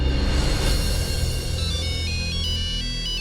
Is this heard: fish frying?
no